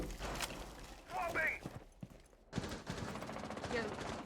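Gunfire in the tactical shooter Rainbow Six Siege, with several sharp shots and short bursts over in-game ambience, a brief lull, then more rapid firing, with voice chat talking at times.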